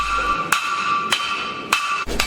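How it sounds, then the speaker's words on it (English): A lump hammer forges hot metal on the bick of an anvil, four sharp ringing strikes spaced about half a second apart, each leaving a bright sustained metallic tone, loud and close with no talk. "The hammering on the bick technique today,"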